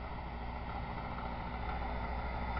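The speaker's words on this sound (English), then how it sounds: "This I have running out here in this field test is a cheap Chinese Yamaha clone generator, 2 horsepower." A cheap Chinese 2-horsepower two-stroke generator, a Yamaha clone, runs outdoors in a field on synthetic fuel, giving a steady, unbroken engine drone at moderate distance with no voices.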